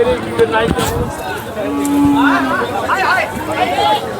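Bulls and cattle at the Sangola livestock market, where racing and work bullocks are traded; a low drawn-out moo rises around the middle amid busy market chatter and nearby voices talking throughout.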